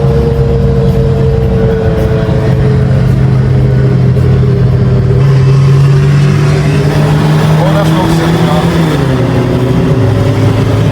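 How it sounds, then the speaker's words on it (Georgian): A car sets off and drives along, its engine droning steadily with shifts in pitch as it gathers speed, heard loud from inside the cabin while people talk. "დავიძარით მოკლედ ახმედის მეხარჯულებით"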